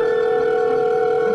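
A telephone rings with a steady, continuous electronic tone, loud and close, holding unbroken throughout.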